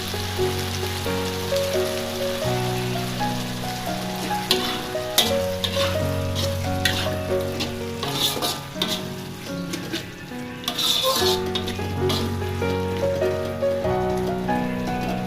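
Sweet-sour fish sauce with pomfret frying and sizzling steadily in a pan after spring onions go in, with occasional stirring clatter, close and continuous, no talking.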